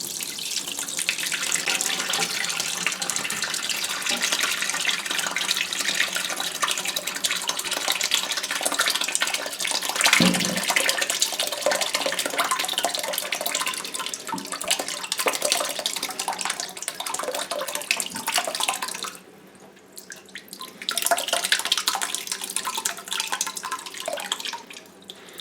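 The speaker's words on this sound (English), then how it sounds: "If it's still dripping at the end of the half hour, I'll let it drain a little longer" Whey draining from triple creme cheese curds in a colander lined with butter muslin makes a steady, close trickling and dripping wash that runs almost throughout, with a brief dip near the end.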